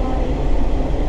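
Loud, steady interior rumble aboard a moving Kyushu sightseeing train, a dense low roar with faint rhythmic rail beats and no voices.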